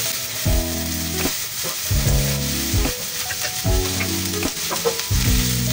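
Onions sizzle steadily in a hot pan while a utensil repeatedly stirs and scrapes, making rhythmic clattering strokes about once every second and a half.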